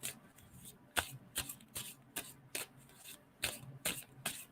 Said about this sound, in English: tell me when to stop shuffling on that